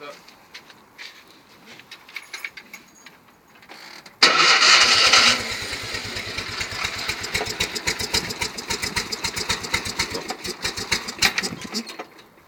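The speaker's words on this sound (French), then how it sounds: "on n'a plus qu'à déjà essayer de démarrer pour voir si elle démarre" Fiat 500 engine cranks and catches abruptly, then settles into a loud, steady, rhythmic idle with fast regular firing pulses, close by; quiet ambient sounds come before the start.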